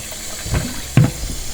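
Tap water runs to wet a doll's hair, giving two brief splashing bursts over a faint steady hiss, close and fairly loud, with no talking.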